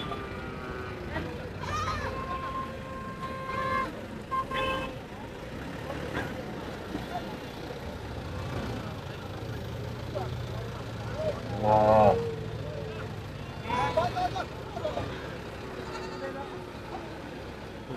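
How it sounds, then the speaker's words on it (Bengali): Trucks laden with cattle roll into a busy livestock market, a low engine rumble running beneath repeated animal bleats and ongoing conversation. "গাড়ি ভরে ভরে গরু আসতেছে।"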